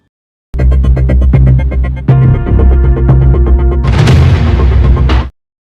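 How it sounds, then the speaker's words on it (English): Explosions over Kyiv during wartime news footage, a loud continuous barrage of booms and rumbling blasts with sharp cracks, densely layered and growing harsher near the end, with no speech. "Explosions echoing from above in Kyiv."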